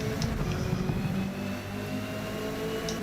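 Engine of a Lotus Cortina in the racing game Forza, a steady mid-pitched drone that holds loud and continuous throughout with no voices.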